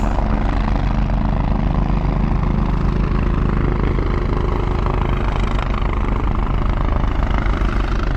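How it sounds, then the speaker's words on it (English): A helicopter drones steadily nearby, its rotor thumping in a constant low throb that stays loud and unchanged throughout. "I wonder if it's like taxi helicopter."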